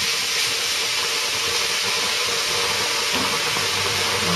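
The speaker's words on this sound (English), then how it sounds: "The little trickle I put in will create a load of steam and help to melt the cheese into the mixture" A splash of water hisses into steam in a hot pan of bacon and cheese, a loud, steady, close sizzling rush with no breaks.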